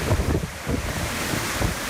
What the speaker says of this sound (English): the Category 4 storm roaring on shore in the dark of night